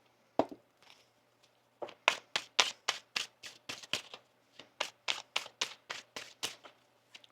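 Tarot cards are shuffled in quick crisp riffles, a run of sharp flicking bursts, close and fairly quiet, with no talking.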